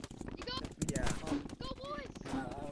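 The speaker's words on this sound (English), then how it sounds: "He's shooting for no reason." Gunfire in the video game Rec Room, rapid bursts of shots crackling close by while people talk over the shooting.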